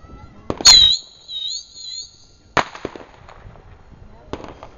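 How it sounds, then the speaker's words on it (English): A close-range bottle rocket firework launches with a sharp pop and a rising, warbling whistle that wavers for about two seconds, then a crack, followed by scattered faint pops and quiet background noise. "And here's a close range, really annoying bottle rocket."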